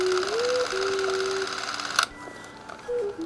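A Bell & Howell T20 XL Super 8 film camera runs with a steady mechanical whir and a whining tone that shifts in pitch, then a sharp click before a quieter stretch and a short burst of whirring.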